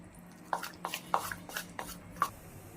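A spoon stirring jowar flour uttapam batter with oil in a bowl, a handful of soft wet scraping knocks at an uneven rhythm, close and fairly quiet.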